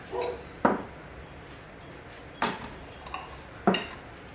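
Salad toppings tossed in a bowl with utensils for a Mediterranean salad with vegan feta, heard as a few sharp, separate clinks and scrapes against the bowl with short pauses between them.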